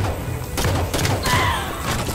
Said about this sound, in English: That's a lot of grenades.